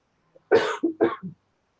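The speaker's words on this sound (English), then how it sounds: "Yes, I have a cough." A person coughs twice in quick succession, each a sharp double burst, close and clear in an otherwise quiet room.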